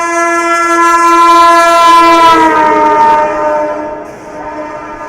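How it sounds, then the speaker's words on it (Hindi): A Garib Rath Express passes at night near Subedarganj, its horn blaring loud and close for a few seconds before falling in pitch as the train goes by and the rumble fades. "सामने से आ रही है 12878 नई दिल्ली से चलकर रांची जाने वाली गरीब रथ एक्सप्रेस सूबेदारगंज को स्किप कर रही है रात के 11 बजे"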